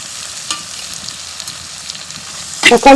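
Garlic fries in a pan with a steady close hiss of oil, punctuated by a few light stirring scrapes and a louder clatter at the very end.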